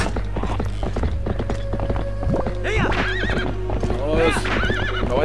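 Epona the horse gallops and neighs in Zelda Twilight Princess HD, with steady clip-clop hoofbeats and several loud whinnies over a constant game background hum.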